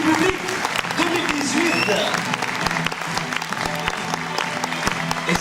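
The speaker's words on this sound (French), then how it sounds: "Applaudissements, s'il vous plaît." A crowd applauds at the award ceremony of the Cinéland international short film festival in Trégueux, steady energetic clapping filling the hall while a speaker talks briefly over it.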